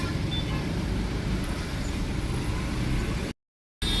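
Road traffic near Hyderabad's international airport in drizzling rain forms a continuous, fairly loud roar of passing vehicles, broken by a short silent gap near the end.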